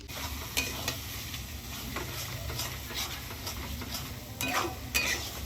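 Onions frying in oil in a kadai for a mutton curry, a steady close sizzle with scattered stirring scrapes and clinks throughout, no talking.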